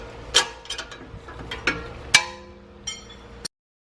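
A ratchet wrench works loose the 15 mm bolts holding the front brake caliper carrier bracket on a 2015 Jaguar XE, several separate sharp clicking bursts spaced across a few seconds, close and fairly quiet, with no talking.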